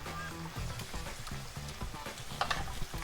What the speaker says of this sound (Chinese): 不要太多面，然后给它翻炒一下